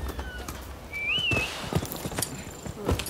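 Hooves of a horse clip-clopping in the samurai video game Rise of the Ronin, a sparse series of soft thuds over quiet ambience with a brief high bird-like whistle.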